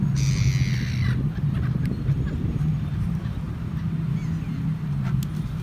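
Several birds, including pigeons, calling at a beach at sunset in Dubai over a steady low rumble of background noise, with a brighter burst of calls near the start and scattered chirps afterward.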